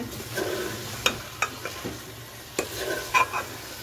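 Potatoes frying in a spice masala in a pan, a soft sizzle broken by several sharp stirring clacks at uneven intervals, close and moderately quiet.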